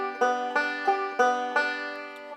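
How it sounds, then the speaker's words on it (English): A banjo plays a forward roll picking pattern: a quick, even stream of bright plucked notes with regular accents, up close and alone. "We're using a forward roll, which we've done before, but it sounds like this."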